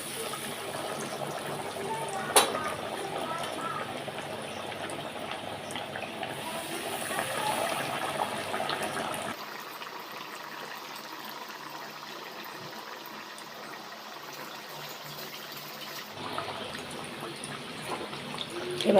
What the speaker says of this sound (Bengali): এবার আমি তেলে ভাজবো। এবার আমি তেলে ছেড়ে দেব।